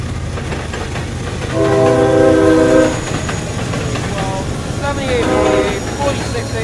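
A CSX freight train rumbles past close by in Plant City, Florida with steady rolling noise, and its horn blasts twice, one long and one shorter, over the clatter.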